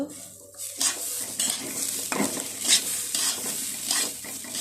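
Rice frying in a pot with bay leaf, cinnamon and cardamom, stirred with a spoon: a low sizzle under repeated scraping and clinking of metal against the pot, close and fairly quiet, no voices.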